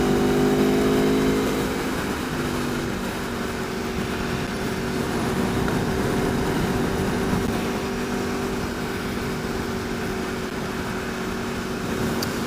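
A 2019 Aprilia V4 Tuono Factory motorcycle engine droning steadily while riding on a group ride, a continuous mid-pitched engine note with wind rush, loud and close, easing slightly after the first couple of seconds.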